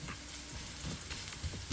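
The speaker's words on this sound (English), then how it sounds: "So this one is just to do this little frying up stuff I'm doing right now." Seafood boil ingredients frying in butter in a pot, a faint, soft sizzle with light crackles and some stirring, quiet and brief.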